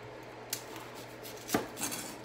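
A kitchen knife cuts through an onion on a cutting board, giving a few sharp, close chops and taps spaced over about two seconds, with no talking.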